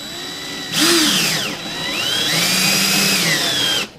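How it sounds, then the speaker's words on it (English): A power drill whines loudly as it drives a screw in, its pitch rising and dipping across two close bursts, with no talking. "Place your bit on there and go ahead and drill it in."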